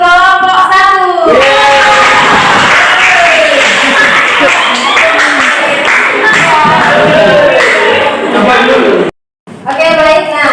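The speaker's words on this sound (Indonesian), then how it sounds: "tepuk tangan dulu untuk kelompok 1" A classroom of students claps and cheers for a student group, a dense burst of applause lasting several seconds, with a teacher's voice heard before and after it.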